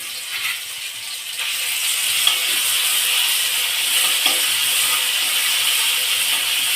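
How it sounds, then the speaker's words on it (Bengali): Steady sizzling of ginger paste in a pan with soft scraping of a spoon stirring through it, close and continuous. "আদা বাটাটা এর মধ্যে আমি দিয়ে দেবো দিয়ে একটু নাড়াচাড়া করব"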